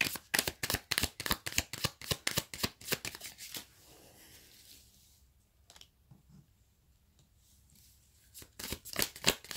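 Tarot cards shuffled in quick, crisp riffling bursts up close, pausing for quieter handling and a few soft taps while a card is drawn, then a final rapid shuffle.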